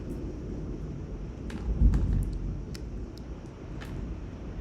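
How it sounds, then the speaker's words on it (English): Distant thunder from a nearby lightning strike near a metal tower behind a house during a storm, a low rumble swelling once in the middle and fading into a steady background roar. "Yikes, did you hear that lightning?"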